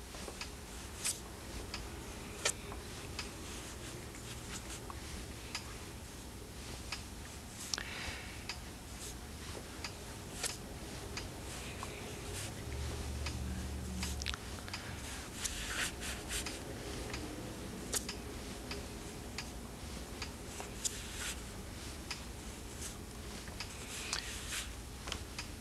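Cutters snip through the metal armor of an armored fiber optic cable, giving quiet scattered clicks and scraping ticks at an irregular pace over a faint background.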